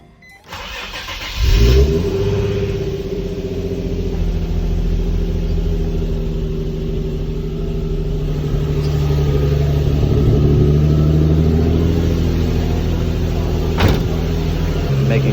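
A Nissan 350Z Nismo engine cranks and catches, briefly flaring loud before settling into a steady, close idle rumble that holds for over ten seconds while warming up.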